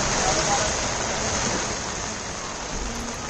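Heavy monsoon rain pours without pause during flooding in Hoshangabad, a loud, dense, continuous roar of water.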